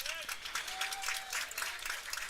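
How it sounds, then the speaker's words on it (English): Crowd applause and clapping at a Winchester Royals vs Strasburg Express baseball game, a steady wash of many hands throughout, with a few high whistles rising above it. "Please give a big round of applause to the folks down at Queen Street"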